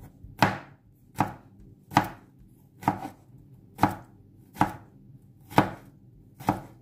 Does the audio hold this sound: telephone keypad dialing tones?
no